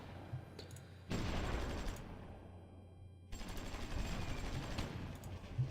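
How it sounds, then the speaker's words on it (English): Missiles fired from offshore in Supreme Ruler Ultimate: two faint bursts of crackling, rapid launch fire, the first briefly and the second longer, separated by a quiet lull, distant and low in level with no talking. "they're firing missiles from offshore"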